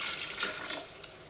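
Tap water runs over 400 grams of quinoa being rinsed in a kitchen, a soft, steady splashing hiss heard faintly and close with no talking.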